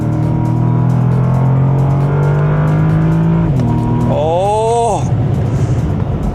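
A roughly 780-horsepower high-performance luxury coupe accelerates hard in full manual mode with stability control off, engine note climbing loudly, then shifting and rising rapidly through gears near the end, with a brief voice underneath.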